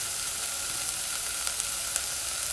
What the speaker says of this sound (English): you hear the wild sizzling, is bit of oil in the saucepan